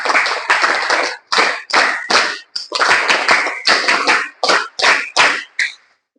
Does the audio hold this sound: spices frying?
no